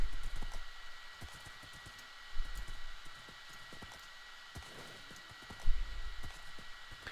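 A horse's hooves clip-clop in a video game, a quick, irregular run of light clopping taps over a steady background hum, with a couple of heavier thuds.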